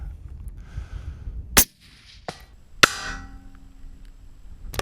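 Rifle shots fired outdoors on a long-range shooting setup: two sharp, loud cracks about a second apart, the second followed by a trailing rolling echo, with quiet wind noise between.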